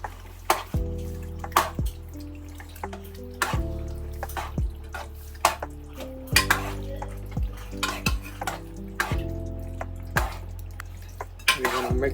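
Pasta stirred through a creamy white sauce in a pan: repeated loud metallic scrapes and clinks of a utensil against the pan with wet squelching, in a steady stirring rhythm, without talk.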